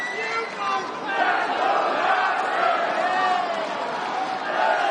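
An Albuquerque, New Mexico arena crowd chants for hometown fighter John Dodson during his MMA bout with Nathaniel Wood, a loud, swelling roar of many voices with a rhythmic chant rising through it.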